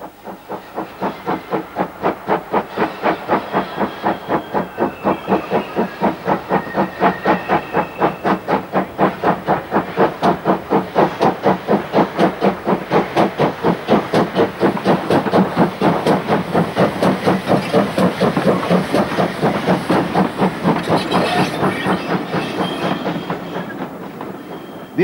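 A Great Western Railway express steam locomotive runs close by on the Dean Forest Railway at Lydney, with loud, rapid rhythmic chuffing, steady hissing steam and a clattering beat of wheels on rails.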